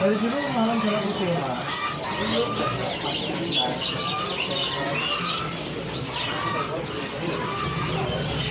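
Several pleci bustomi white-eyes chirping from a box at a bird market, rapid overlapping high twittering and trills with other birds and crowd murmur in the background.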